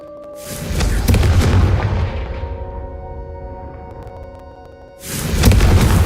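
Confringo blasting spell explosions in Hogwarts Legacy: a heavy booming blast swells and rolls off over several seconds beneath a soft musical tone, then a second loud boom erupts near the end.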